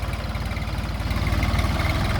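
A Jinma 244 diesel tractor engine idles close by with a steady low chugging rumble and vibration, no voices present.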